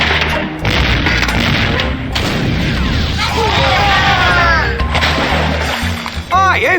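Booming cannon shots from The Curse of Monkey Island pound through a dense mix of splashes, thuds and bursts across several seconds, with voices talking over the din.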